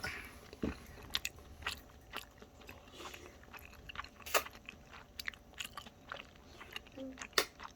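A toddler eats jjajang ramen, with faint, irregular chewing and biting crunches plus a few sharper clicks and slurps close by, and soft murmurs mixed in.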